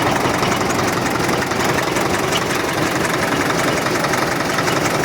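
The small pony starting motor on a Caterpillar D4 bulldozer runs steadily, a dense, rapid knocking putter that stays even and fairly loud throughout without any talking.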